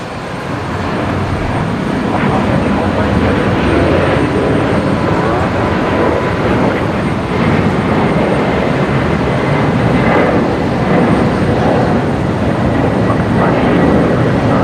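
A Qantas airliner departs Brisbane Airport during an evacuation ahead of Cyclone Alfred, a loud, sustained jet roar that swells and holds steady from a distance.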